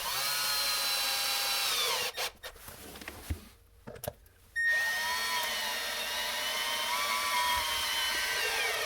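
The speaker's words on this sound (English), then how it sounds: "Then screw home your skirting board." A power drill drives screws through a skirting board into a wall in close, loud bursts of whining motor. A short pause with clicks and handling noises separates the two runs, and no talk is heard.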